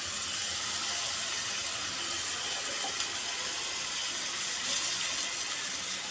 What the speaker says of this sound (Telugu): ఇంకొంచెము వాటర్ యాడ్ చేస్తే బాగుంటుందండి, గ్రేవీ ఇంకా బాగా వస్తుంది.